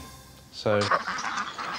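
A single loud duck quack bursts out briefly after a soft spoken word, with a few quieter honking, quack-like calls trailing after it.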